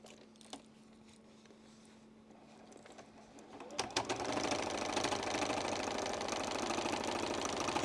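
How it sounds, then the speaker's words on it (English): Domestic sewing machine stitching down a quilt binding: after quiet room tone with a faint click, the motor starts and runs steadily with a rapid needle chatter, close and continuous for several seconds, no voices. "take it over to the machine. Put a little secure stitch in there."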